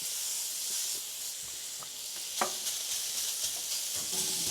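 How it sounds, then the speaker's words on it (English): Bacon sizzles on a griddle with a constant soft frying hiss, broken by a few faint pops and scrapes. "Let's put some bacon on this griddle."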